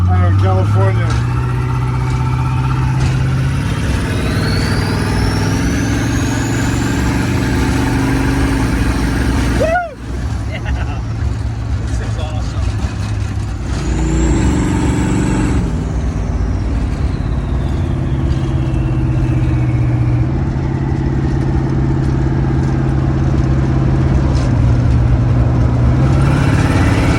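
A fully custom car with a Turbo 400 transmission, specially built in California, drives with a steady, loud mid-pitched engine drone and occasional shifts in pitch; voices are also present.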